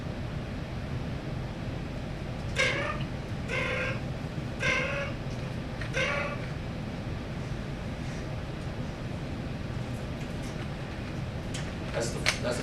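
Short fluttering purrs are made with the lips, imitating a turkey, several brief bursts spaced apart over a steady outdoor hiss.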